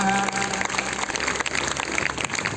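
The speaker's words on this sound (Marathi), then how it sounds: "तर या छोट्या मुलांसाठी एकदा जोरदार टाळ्या होऊ द्या" A school crowd claps loudly for young fifth- and sixth-grade children at a high school's Gadge Baba death-anniversary event; dense, continuous applause fills the whole stretch, with a faint musical tone at the start.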